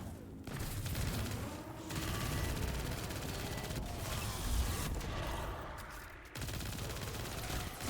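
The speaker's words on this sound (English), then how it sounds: "I have a machine gun." Sustained machine gun fire from the video game Destiny 2 rattles continuously for several seconds, with dense rapid shots, a few brief breaks and shifting intensity, and no talking over it.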